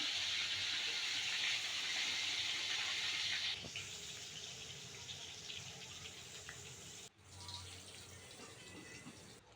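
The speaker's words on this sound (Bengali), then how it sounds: "কড়াইতে তেল গরম হয়ে গেছিলো তার ভিতরে আমি বেগুনগুলো দিয়ে দিচ্ছি" Eggplant pieces rubbed with turmeric and salt sizzle in hot oil in a wok, a strong steady frying hiss that eases a little partway through and jumps briefly near the end, with no voices.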